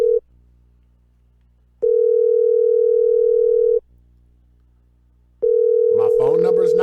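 A phone call ringing out unanswered, a steady electronic ringback tone sounding in long pulses with silent gaps between, before a voice starts speaking at the end.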